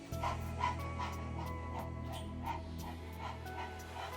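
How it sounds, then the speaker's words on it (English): A person does breath of fire in kundalini yoga, rapid rhythmic inhales and exhales through the nose, panting steadily and closely at about three breaths per second over a low background hum, with no talking. "again doing breath of fire. So using just your nose to inhale and exhale, looks like this."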